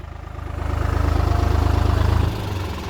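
A New Holland T480 S tractor's heavy diesel engine chugs steadily at low pitch while plowing a field, swelling louder and then easing slightly, with a rhythmic mechanical pulse.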